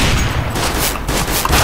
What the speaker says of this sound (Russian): Типа стреляю из Глока, а по-настоящему стреляю из Глока.